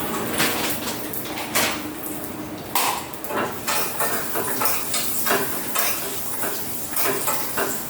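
Black grapes and almonds fry in a pan, a busy close-up sizzle with frequent scraping and clattering of a spoon stirring against the metal, loud and continuous with no talk.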